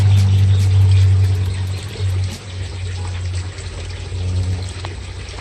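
Water drains from a goldfish tank through a tube, producing a continuous close gurgling pour and trickle that steadily weakens and then picks up again toward the end.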